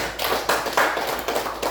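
Classroom students clap for a group, a few loose bursts of claps at close range with no talking.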